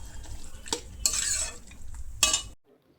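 Cumin powder frying in oil in a pan, stirred with a few quick, close scraping strokes over a soft sizzle, then cutting off into silence.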